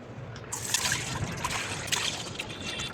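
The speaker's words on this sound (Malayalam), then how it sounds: "ഇനി നമുക്ക് ഈ സെയിം പാനിലോട്ട് തന്നെ പാല് പൊട്ടിച്ചൊഴിച്ച് കൊടുക്കാം കേട്ടോ" Milk being poured into a pan for mango sago vermicelli kheer, a steady liquid trickle and splash running close by for a few seconds with no talk.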